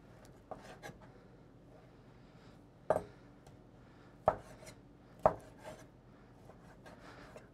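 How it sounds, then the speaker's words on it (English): A knife cuts meat on a board for sausage, a quiet room with a few soft strokes and then three sharp, separate chopping thuds spaced about a second apart. "We have to cut this meat up so that it's pliable through the machine."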